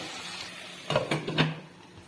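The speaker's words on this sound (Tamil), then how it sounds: "நல்லா ஒரு கலக்கி விட்டுட்டு நம்ம தட்டை போட்டு மூடி வச்சிடலாம்" A plate is set over a pot of village-style kuzhambu cooking with brinjal and green chillies, giving a few close metallic clinks and a scrape in quick succession over a quiet kitchen background.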